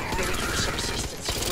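Gun in Back 4 Blood firing in a quick, dense volley of shots, loud and up close throughout the short stretch.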